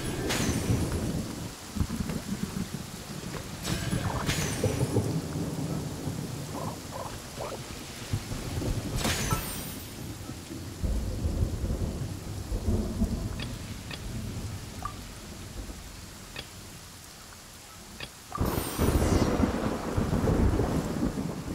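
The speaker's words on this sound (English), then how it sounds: "It's raining!" Rain pours steadily in the Genshin Impact video game while sharp thunder cracks and rolling rumbles break through several times, loud and close.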